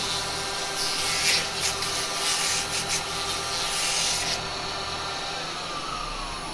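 Sandpaper rubs against a freshly turned wooden piece spinning on a lathe, a steady rasping hiss over the motor's hum that fades out partway, leaving the lathe running alone.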